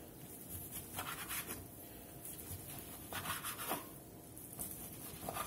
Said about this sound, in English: I'm just going to go through here and kind of cut this up a little bit.